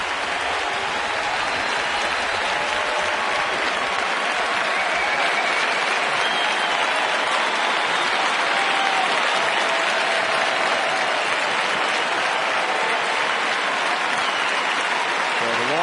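A big baseball stadium crowd rises in a long standing ovation during the first inning of a Braves at Cubs game, with steady loud applause and cheering sustained across the whole stretch.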